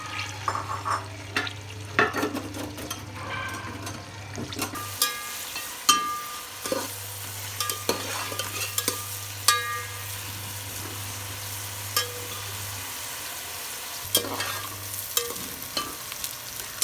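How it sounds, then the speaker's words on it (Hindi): Onions frying in plenty of oil in a pot for gobhi chicken, a sustained sizzle with repeated scraping stirs and knocks throughout, and a steady low hum running under much of it. "प्याज को लाइट गोल्डन ब्राउन कर लेना"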